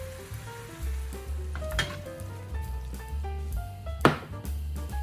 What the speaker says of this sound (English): Cook the pork thoroughly.